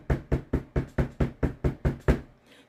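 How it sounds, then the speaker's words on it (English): Ten sharp, evenly spaced knocks on a door in a quick steady rhythm, loud and close, with no speech over them. "The grasshopper knocked on the door."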